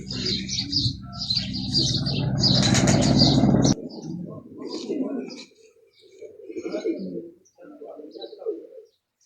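Racing pigeons arrive on a club race day, with a loud rush of flapping wings and cooing up close for the first few seconds, then voices talking with occasional soft bird calls.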